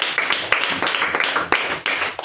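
Children clapping in a Sunday school worship service, a steady rhythmic beat of group claps repeating about twice per second, close and bright, with faint voices beneath.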